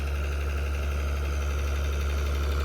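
An engine-driven water pump drains a pond, its steady low droning rumble running unbroken and close, with a constant mechanical hum and no voices.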